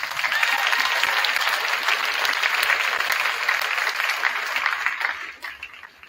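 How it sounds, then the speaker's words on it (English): Sustained audience applause at a girls' varsity volleyball event in a school gym, dense steady clapping from a large crowd that holds strong for several seconds before tapering off near the end. "Please join me in giving them a well-deserved round of applause."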